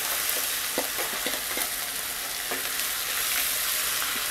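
Crushed onion and curry leaves fry with fried chicken in a pan under a dense, continuous sizzle, punctuated by soft stirring knocks close by.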